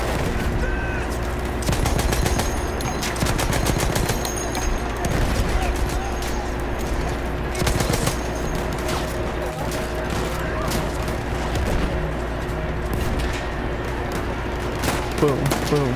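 Battlefield 1 gunfire in a dense firefight: rapid automatic bursts and sharp single shots crackling nonstop over a low rumble, loud and close, with voices talking over the shooting.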